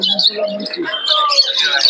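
Giribaz pigeons and other birds at a pigeon market in Murshidabad give busy chirps and calls over a steady murmur of crowd noise, dense and continuous for about two seconds.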